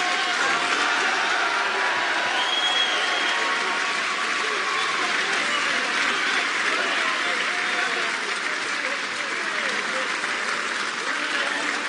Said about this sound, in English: Oh, how this great crowd has loved all of this.